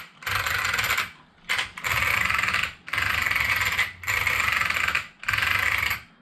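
Arrma Vendetta RC car drivetrain rattling in rapid machine-gun-like bursts, five loud close ratcheting runs of about a second each separated by brief pauses, with no talk.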